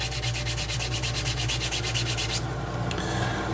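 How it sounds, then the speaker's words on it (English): Leather wallet pieces being lightly sanded by hand, a rapid rhythmic rasping of short strokes for a couple of seconds, then stopping, close and fairly loud over a low steady hum. "I'm just going to sand these a little bit."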